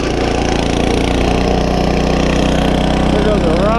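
A HORSE rototiller engine running loud and steady while tilling garden soil and old debris, a constant rough mechanical drone close by, with a voice over it.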